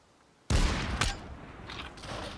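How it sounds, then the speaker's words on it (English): A sniper rifle fires in the VR shooter game Population One: a sudden loud crack followed by a second sharp report half a second later, each trailing into a long rumbling decay. "you can shoot this sniper one-handed all day"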